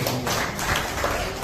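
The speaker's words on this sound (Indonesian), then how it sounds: "Tepuk tangan untuk Tuhan Yesus" Congregation claps for Jesus during an Indonesian church sermon, a steady mass of hand claps filling the room without pause.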